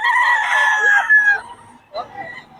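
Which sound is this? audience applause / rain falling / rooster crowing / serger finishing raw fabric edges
rooster crowing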